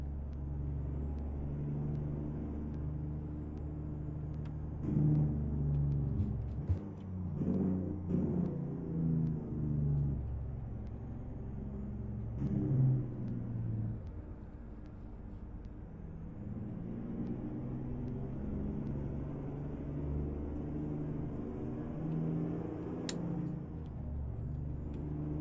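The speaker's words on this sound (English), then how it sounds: "I love the sound of a good engine brake." A truck's engine brake rumbles steadily on the road, a deep, loud drone that swells and pulses several times over about 25 seconds, with faint air-brake hiss and passing traffic in the background.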